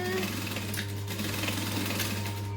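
A sewing machine runs steadily, stitching layers of vinyl for a backpack at a 2.5 stitch length, a continuous close whirring hum with a busy mechanical chatter throughout.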